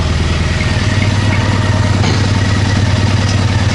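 A Triumph Bonneville motorcycle engine idles steadily and loudly up close, a continuous low rhythmic thrum with faint mechanical clatter and no talk.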